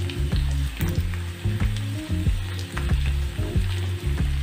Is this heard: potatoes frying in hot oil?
yes